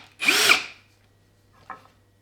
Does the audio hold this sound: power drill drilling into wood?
yes